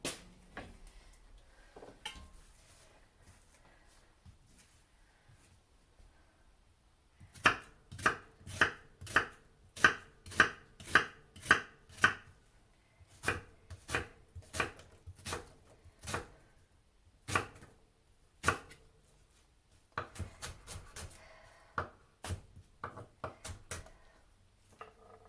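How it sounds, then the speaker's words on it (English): A knife chops an onion on a board, beginning with a few scattered cuts and then a run of fast, evenly spaced sharp thuds, followed by irregular bursts of chopping, close and crisp, with no speech. "If you wanted to go even further, freaking chop the rest off."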